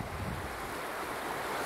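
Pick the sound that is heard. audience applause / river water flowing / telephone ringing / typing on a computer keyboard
river water flowing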